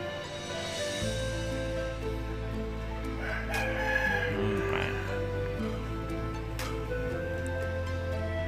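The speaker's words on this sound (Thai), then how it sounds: "ไก่มันขันอย่างเดียวเลย" In the game Ultimate Army Tycoon, a rooster crows repeatedly over a steady, fairly loud background of game sound and music, with no speech.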